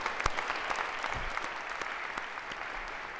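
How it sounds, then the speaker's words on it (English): A lecture-hall audience claps for a pair of student volunteers, a steady, moderately distant patter of many hands that continues evenly without a voice over it. "A round of applause for our other pair of volunteers here."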